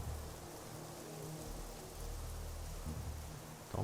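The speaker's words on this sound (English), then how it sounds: "the wind and rain, it gets to blow and it can be deafening like this" Wind and rain in the video game Generation Zero, a steady roaring wash of rainfall and gusting wind with a deep low rumble, loud and unbroken with no talk.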